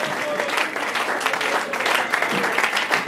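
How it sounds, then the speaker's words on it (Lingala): A church congregation claps together in sustained, dense applause, the steady rattle of many hands filling the room with no pauses. "tozali kobeta maboko"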